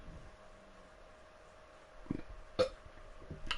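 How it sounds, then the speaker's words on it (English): A person burping, two or three short throaty eructations in a quiet room, faint and brief, separated by pauses. "God, I got the burps."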